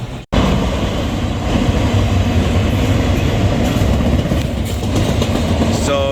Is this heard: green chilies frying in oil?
no